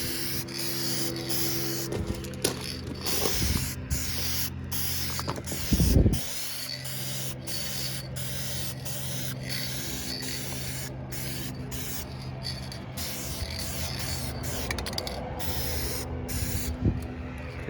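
Plastic adhesion promoter is sprayed from an aerosol can onto a car bumper in short repeated bursts of hiss, with small clicks and handling noises between passes and no talking.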